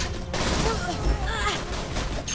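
Rapid bursts of gunfire from a weapon in the video game Borderlands: The Handsome Collection, loud and continuous with sharp cracks and booms, mixed with in-game voices and effects.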